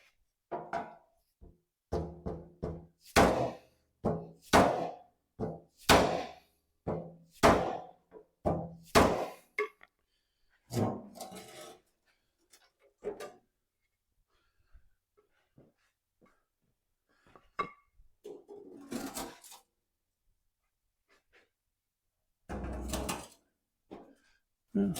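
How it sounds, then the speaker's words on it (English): Metal knocking frees rust from a 1948 Willys pickup: a quick run of sharp, hollow thunks and raps, dense at first, then sparse single hits separated by quiet gaps. "Knocking some rust free."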